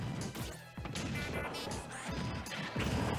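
Forward smash attacks land twice in quick succession during a Super Smash Bros. 4 grand finals match, sharp crashing hits over busy game sound effects and crowd noise.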